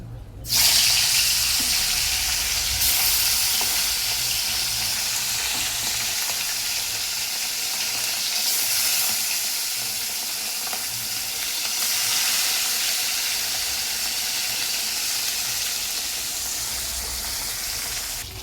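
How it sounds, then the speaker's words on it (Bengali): Fish frying in a pan while home-cooking a Bengali lunch, a steady loud sizzle and crackle running throughout with no talk, as a tap or washing sounds briefly in the background. "দেখো মাছ ভাজা হচ্ছে"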